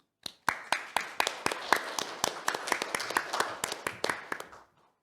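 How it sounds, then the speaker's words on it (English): Applause from a conference audience at a carbon neutrality policy event, a sparse run of individual hand claps that thins out and stops after about five seconds, fairly close and with no talking. "Please welcome him with a big applause."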